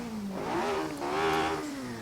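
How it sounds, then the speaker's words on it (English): A racing car's engine revs in Assetto Corsa, its pitch rising and falling through two smooth swells, steady and fairly loud with no talking over it. "I don't know what the sound balance is like between my voice and the engine"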